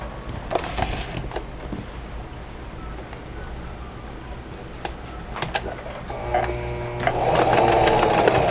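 A sewing machine topstitches along the top of a turned, pressed fabric pocket, running in short mechanical bursts and then a steadier, louder whirring stretch at the end.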